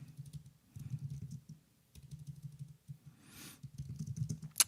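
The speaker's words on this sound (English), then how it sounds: "So I'm typing that into another window here." Someone types quickly on a computer keyboard, close and continuous, in bursts of rapid key clicks separated by short pauses and ending with a sharper tap.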